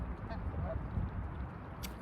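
Geese honking among mallard ducks on open water, distant calls scattered over a steady outdoor wash of wind and ambient noise.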